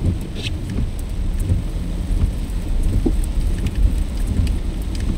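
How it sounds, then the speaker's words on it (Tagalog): Heavy, steady downpour roaring continuously, with dense drumming of rain on surfaces and no voices, during flooding in Daraga, Albay, Philippines. "Ang lakas ng ulan."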